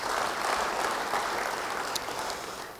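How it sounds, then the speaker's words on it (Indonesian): Church congregation applauding after a preacher's call, a dense wash of clapping that holds steady for a few seconds before easing slightly toward the end. "Yang mau beri tepuk tangan bagi dia."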